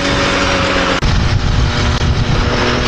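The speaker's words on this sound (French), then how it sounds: "Peu de tours minutes. Je suis à peine à un quart des gaz." A 103 moped engine with a reed valve box, running at low revs and about a quarter throttle, drones loud and continuous with a buzzy rasp and slight surges.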